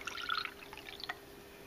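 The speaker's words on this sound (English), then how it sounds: "Push the vinegar aside, and then just" Vinegar poured into a cup of salt makes a short, faint splashing trickle that fades after about a second, followed by a few soft drips.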